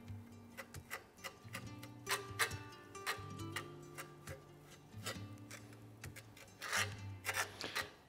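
A flattened spoon tool spreads sticky ceramic shell cement, producing close, quiet scraping and rubbing strokes in an irregular rhythm, with faint tonal hum underneath.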